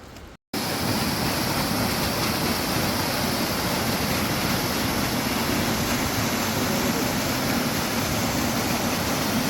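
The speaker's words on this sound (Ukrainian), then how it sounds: "І чути, як водоспад шумить там внизу." A constant, broad roar of the Cascata del Pisciarello waterfall in Abruzzo, Italy, rushing far below fills the clip after a brief cut at the start, steady and distant-sounding with no voices.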